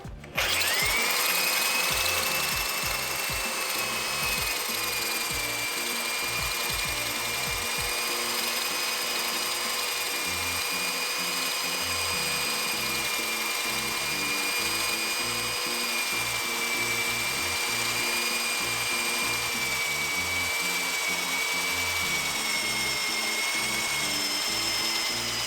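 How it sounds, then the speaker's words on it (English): A variable speed drill cuts a faucet hole through a Corian solid surface countertop, a steady sustained high whine with a constant grinding hum, close and unbroken for the whole stretch. "drilling at a slow to medium speed, you'll kind of hear a difference as it starts to cut through the bottom of the material"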